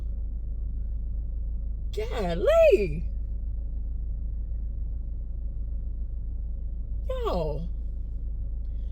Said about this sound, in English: Dang, it's a lot of traffic.